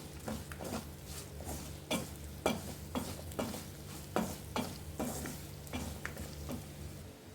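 A spoon scrapes and stirs rhythmically in a pan, regular strokes about once a second over a faint sizzle of spices frying.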